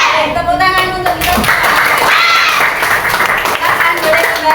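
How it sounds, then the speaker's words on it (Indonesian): Schoolchildren in a sixth-grade elementary classroom break into a burst of applause, with quick rhythmic clapping and excited young voices talking and calling out over it, close and loud throughout. "Tepuk tangan untuk kita."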